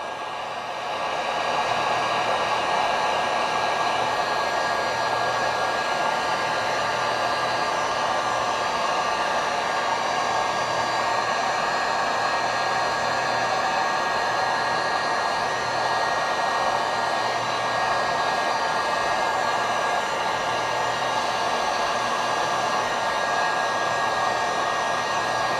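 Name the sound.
heat gun shrinking covering on RC airplane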